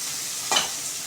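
Green capsicum sautés in a pan with a steady soft sizzle and one brief stirring scrape near the middle, close and alone.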